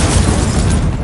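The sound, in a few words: Incendio fire spell blast, from video game Hogwarts Legacy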